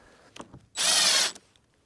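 A short burst of power drilling while insulating a pole barn, about half a second of loud whirring, with faint clicks and handling noises before and after.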